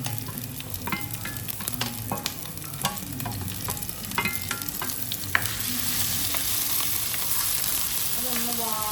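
Crushed garlic, ginger and green chili fry in a pan while cooking crab, with a continuous sizzle and intermittent sharp stirring clinks and scrapes close by, steadying into an even hiss toward the end.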